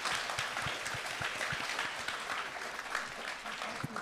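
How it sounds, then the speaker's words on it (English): A science event audience gives a round of applause for the scientists, a sustained, fairly distant wash of clapping with occasional louder claps and some crowd murmur. "can you just please give another huge round of applause to our scientists?"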